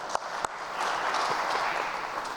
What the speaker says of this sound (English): we can do a round of applause for that.